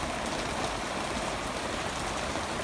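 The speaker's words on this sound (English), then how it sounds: "the rain's increasing" Steady rain falls over pasture near a creek running close to its banks after overnight flooding, a dense even hiss of drops and rushing water, faint and continuous with no voices.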